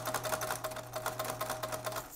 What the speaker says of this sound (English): we're just gonna finish sewing this stretch here